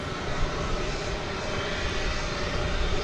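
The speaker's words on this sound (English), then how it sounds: "here's the big Dreamliner, Flight 192, Dreamliner-9" Boeing 787-9 Dreamliner jet airliner bound for Istanbul at an airport, a loud steady broadband engine roar filling the whole stretch without talk.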